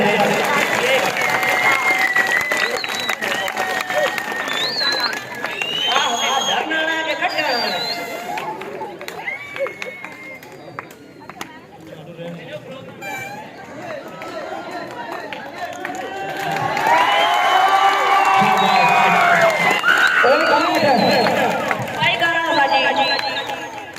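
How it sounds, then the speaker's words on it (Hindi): Audience applause and cheering during a stage comedy performance with a doctor-and-patient sketch, a loud crowd roar and clapping swelling strongly in the second half amid general hubbub. "तालियां बजा दें।"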